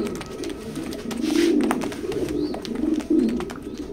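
Racing pigeons kept in pairs coo nearby in low, rolling bursts, several overlapping throaty calls repeating every second or so, with faint wing and cage rustles and no talking.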